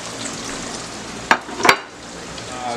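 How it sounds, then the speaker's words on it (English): Steady hiss and crackle of chicken shallow frying in oil, with two brief sharp clinks from a utensil or pan partway through. "Right now I'm shallow frying the chicken."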